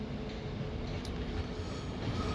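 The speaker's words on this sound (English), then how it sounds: "and we've got 2 trains arriving" Trains roll into Manchester Piccadilly station on the West Coast Main Line branch, a class 195 and a class 397, with a steady loud rumble of wheels and engines, continuous and close, with no talking.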